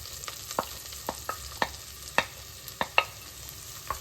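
Quiet sizzling of onions frying in butter in a pot, with scattered soft clicks and pops from stirring, no voices.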